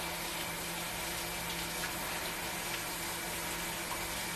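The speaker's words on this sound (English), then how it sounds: "I have to wash my hands" A tap runs steadily while hands are washed, giving a constant, even rush of water at moderate volume with a faint background hum and no talking.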